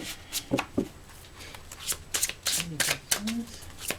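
Tarot cards being shuffled for a reading, a close series of quick riffles and soft snapping flicks in uneven bursts, with a voice speaking briefly amid the card noise.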